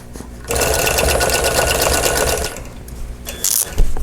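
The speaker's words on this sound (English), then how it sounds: "So let me get this side down. Okay, I'm going to baste this down." Longarm quilting machine basting the edge of a table runner, a loud, fast mechanical stitching rattle that starts after a quiet moment and runs steadily, with a brief shift in tone near the end.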